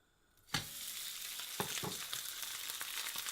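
Steak laid into a hot oiled pan bursts into loud sizzling, then settles into steady frying crackle with a few sharp pops and scrapes.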